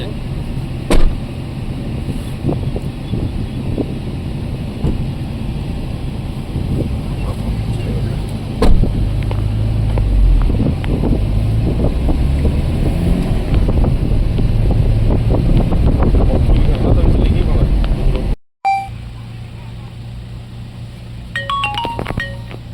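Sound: motor running

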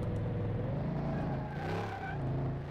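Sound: car engine revving in Car Mechanic Simulator 2018 video game

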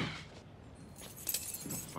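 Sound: keys jangling as they are tossed

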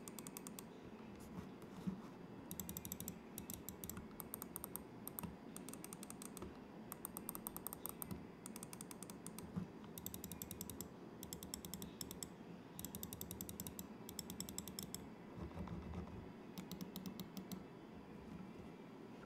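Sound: Machenike Devilfish M830 mouse clicks, blue micro switches

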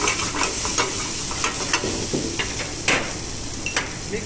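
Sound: mixing grated paneer and potato in a pan

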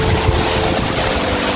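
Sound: flowing water of a stream near a waterfall

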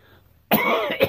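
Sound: cough

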